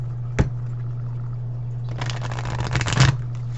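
Tarot cards are riffled in a soft, papery burst lasting about a second, preceded by a single tap, over a steady low electrical hum.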